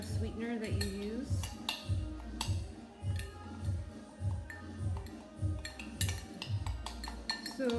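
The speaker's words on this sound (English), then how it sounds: "We're gonna use a spoon and we're gonna just stir it." A metal spoon clinks and taps repeatedly against a glass or cup while stirring a drink, in a regular rhythmic pattern with sharp ringing strikes throughout, fairly close and clear.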